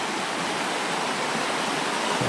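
A turbulent river rushes near a forest campsite, a dense, steady roar of churning water that stays constant and close throughout, with no voices.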